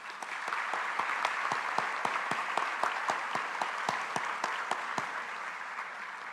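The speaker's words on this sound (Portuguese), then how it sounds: "Nós queremos honrar a cada um destes concílios com uma salva de palmas." Sustained applause from a large audience at a graduation ceremony in Pernambuco, a dense, steady wash of many clapping hands with sharp individual claps standing out, continuous and even throughout.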